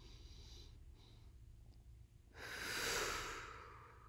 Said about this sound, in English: breathe audibly so you can hear your breath